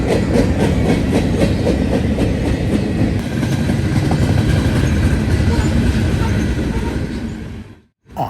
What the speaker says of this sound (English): A bonus tonight was a CN ET-44AC sandwiched between an ES-44AC NS and an NS